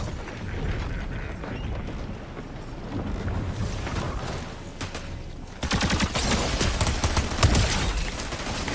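Rapid gunfire from a weapon in Fortnite Save the World keeps up as a dense, continuous barrage, growing noticeably louder and harsher during the second half.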